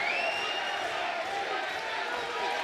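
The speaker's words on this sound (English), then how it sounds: "You can hear the fans really cheering for Sam here." A distant arena crowd of fans roars and cheers continuously at a grappling match, a dense wash of voices swelling at a steady level.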